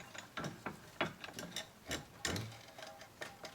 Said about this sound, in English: So I put it in my bench vise.